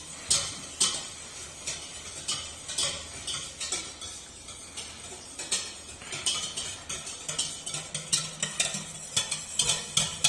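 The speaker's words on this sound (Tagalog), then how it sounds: "nimimix naman natin na mabuti itong ating liquid ingredients." Liquid ingredients for chocolate cupcakes are whisked in a bowl, giving a brisk, irregular run of close tapping and clinking strokes of utensil against the dish, with no talk.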